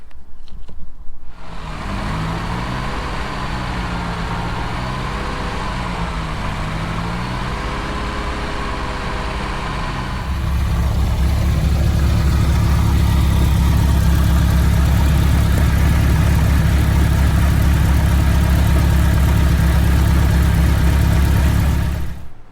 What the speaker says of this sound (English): Just given the 308 its longest run, just idling on the driveway